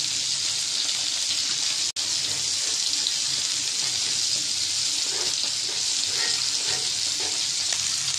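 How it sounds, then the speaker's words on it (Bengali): Fish frying in hot oil in a pan for a home-style bhuna curry gives off a steady, dense sizzle that holds throughout, with a brief dropout near the start and no talking. "মাছটা ভাজা হচ্ছে"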